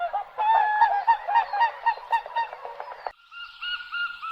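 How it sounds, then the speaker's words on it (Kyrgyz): A swan calls with a series of loud, nasal honks, close and clear, in an uneven rhythm. After a short pause come a few higher, steadier honks. "аккуу."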